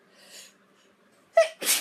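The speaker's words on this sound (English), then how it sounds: "oh, I'm gonna sneeze." A single person sneezes close up, with a short breathy intake before a sharp explosive burst, and near silence around it.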